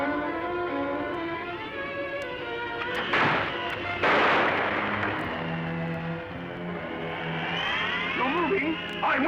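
Gunshot effects in a Sherlock Holmes radio drama played from vinyl, two sharp cracks a second apart cutting through the dialogue, with voices talking before and after.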